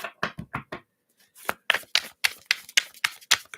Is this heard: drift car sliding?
no